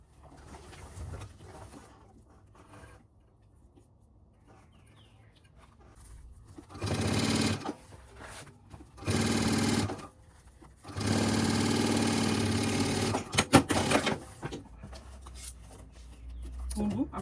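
Sewing machine stitching the bottom seam of an expandable fabric toiletry bag, running in several loud bursts of a few seconds each with pauses between, faint background noise and birds cooing in the quieter gaps.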